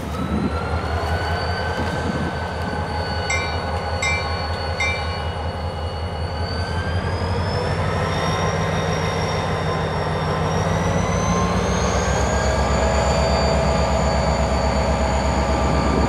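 A Florida East Coast Railway freight train rolls steadily around a curve, wheels squealing in high sustained tones over a constant loud rumble of railcars, with no talk.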